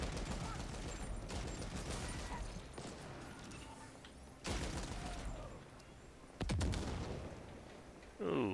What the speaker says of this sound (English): Ooh, who's firing at me?